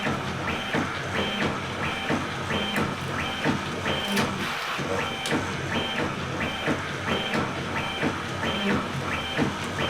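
Prusa Bear 3D printer fitted with dual Y-axis stepper motors running at high speed, giving a steady loud whine with rapid repeating tonal sweeps as the axes shuttle back and forth in a regular rhythm, with no talk.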